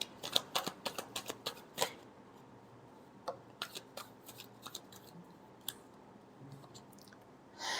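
Tarot cards being shuffled by hand, a quick burst of crisp riffling snaps in the first two seconds, then sparse soft card clicks and rustles, close and fairly quiet, with no talking.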